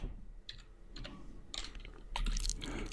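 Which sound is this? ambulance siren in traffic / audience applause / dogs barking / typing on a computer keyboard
typing on a computer keyboard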